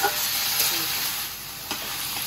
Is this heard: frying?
yes